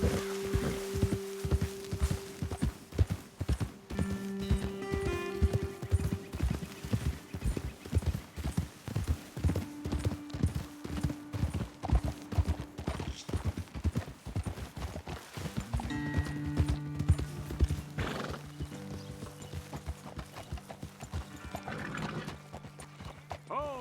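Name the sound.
horses riding in Red Dead Redemption 2 video game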